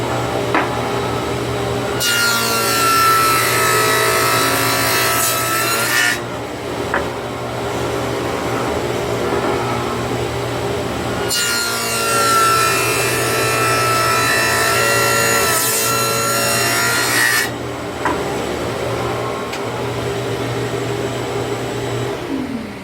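Wooden pieces for beehive frames being cut with a power saw, two long bursts of loud whirring and cutting, each lasting several seconds, separated by a lower running hum, close by with no talking.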